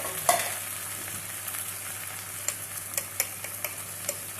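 Chopped whole peeled tomatoes for shakshuka bubbling and sizzling in a pan, a steady hiss broken by a run of small sharp taps and pops, close and free of speech.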